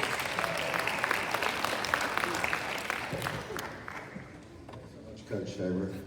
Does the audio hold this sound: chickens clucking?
no